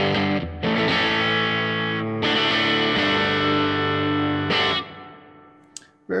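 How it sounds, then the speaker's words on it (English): An electric guitar played through the Fender Tone 3.0 desktop app with a spring reverb effect: loud, distorted sustained chords ring out alone, with a splashy reverb tail as the last chord decays. "I'm gonna click spring."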